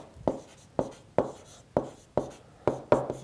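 Marker or chalk strokes on a board while working a math problem on ratios and chance, a run of about seven crisp, evenly spaced taps and scratches, close and clear, no talking.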